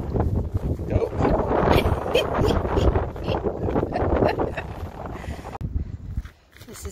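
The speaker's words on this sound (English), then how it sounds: "Man, that wind. Brutal." Strong wind gusts outdoors in snow at an animal pen, buffeting the microphone in steady loud roaring bursts that die down near the end, with a voice speaking over it.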